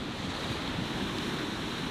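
Waves washing steadily onto the Lake Erie shore, a continuous broadband surf wash with wind noise buffeting the microphone, no distinct breaks.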